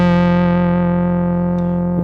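A synth sustains one droning note through a Walrus Audio Julianna chorus/vibrato pedal in random wave mode, a steady, harmonically rich tone with subtle wavering, alone and close.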